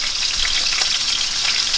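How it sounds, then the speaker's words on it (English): Food frying in a pan turned down to medium heat gives a steady, dense, fairly loud sizzle that crackles without pause and has no voices over it. "Sizzle, sizzle, sizzle. Let it cook."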